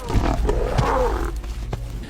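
Lionesses growl and roar while attacking a giraffe in the wild at Kruger National Park in South Africa, with rumbling, mid-distance snarls under a steady outdoor background.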